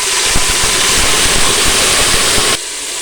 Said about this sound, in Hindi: अब इसमें थोड़ा सा पानी शामिल करेंगे।